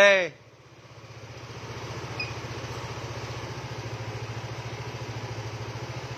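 Motorcycle engine, likely a Yamaha scooter hooked to a diagnostic scanner, cranks and starts after a brief burst, then settles into a steady, close, rhythmic idle with a light pulsing putter that holds to the end.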